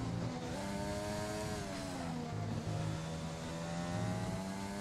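A race car laps the Hanoi Street Circuit in a racing video game, its engine loud and up close, rising and falling in pitch through gear shifts and braking with no break in the sound.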